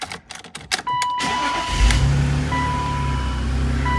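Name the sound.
2000 BMW Z3 Roadster engine starting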